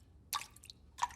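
Two quiet, distinct water drips, half a second or so apart, fall from a leaky faucet in an animated cartoon, with near silence between them and no talking.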